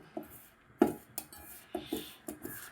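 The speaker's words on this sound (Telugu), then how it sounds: "చూడండి, మిక్స్ చేసేస్తున్నాను" Spoon scraping and clinking in a bowl while semolina, maida and wheat flour are stirred together for rava dosa batter; a handful of sharp metallic taps and scrapes, close and fairly quiet, spaced irregularly with no talk.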